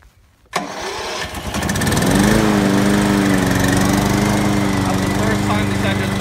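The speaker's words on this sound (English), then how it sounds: "That's the first time this engine's been started." A small engine fires up for the first time with a sudden catch, then settles into a loud, steady running drone that holds to the end.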